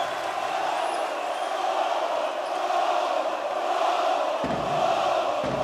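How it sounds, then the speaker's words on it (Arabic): Loud, steady roar of a basketball crowd at a Lebanese championship game between Sagesse and Champville, sustained through the whole stretch with a brief lift near the end as fans push the Sagesse defense. "هلا الجمهور هو اللي عم يلعب، يعني بالملعب عم نسمع شيء صاخب جدا على كل ديفنس لفريق الحكمه"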